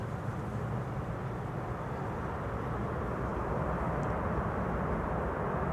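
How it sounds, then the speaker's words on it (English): Airliner thrust reversers roaring on landing at Amsterdam Schiphol, a steady, loud, broadband rumble that holds evenly throughout with no voices. "Reversers clearly audible."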